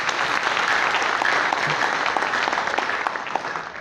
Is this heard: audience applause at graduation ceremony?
yes